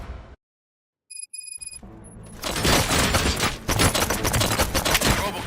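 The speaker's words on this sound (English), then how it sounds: "Gunshots?" Gunfire in the game Robocop: Rogue City breaks out after a short silence and brief beeps, turning into a loud, dense barrage of rapid shots and impacts that continues to the end.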